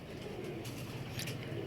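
Soft, low cooing from a Kasuri pigeon, close by and steady, set against a noisy background hiss with a few faint higher chirps near the end.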